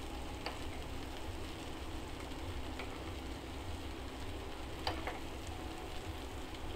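Paneer cubes sizzle and fry steadily in a hot pan with oil, a continuous crackling hiss with a few sharper pops, close and alone without talk.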